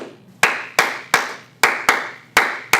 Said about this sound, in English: Dude, you suck at clapping.